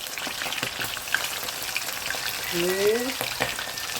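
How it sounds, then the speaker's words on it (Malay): Shrimp dusted lightly with flour fry in hot oil, giving a continuous crackling sizzle with scattered pops and spatters throughout. "udangnya dengan sedikit tepung ya. Kita goreng dulu. Kita goreng agak layu sedikit."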